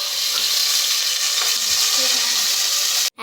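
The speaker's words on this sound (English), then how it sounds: "Add 3 teaspoons of olive oil into a pot under a large flame. Add 375 milliliters of fresh cream." Fresh cream poured into hot olive oil in a pot over a large flame, giving a steady, loud broadband sizzle with faint stirring clinks that cuts off abruptly at the end.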